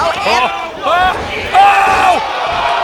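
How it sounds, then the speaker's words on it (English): Sold-out wrestling arena crowd at the Yarmouth Amex in Maine roaring for an over-the-top-rope pounce, loud swelling cheers and shouts rising in waves. "Crowd's feeling it here in the Yarmouth Amex"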